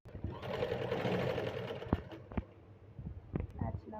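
A sewing machine stitches a boat neckline on a garment. Its steady, close whirring runs for over a second, then stops, followed by a few sharp handling clicks with faint background talk.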